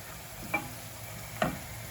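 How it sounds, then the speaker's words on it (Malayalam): Sliced onions sautéing in a pan for a Kerala-style beef curry give a soft, even sizzle close by, broken by two sharp spatula taps against the pan, with no voices. "നമ്മുടെ സവാള ഒരുവിധം വഴണ്ടിട്ടുണ്ട്."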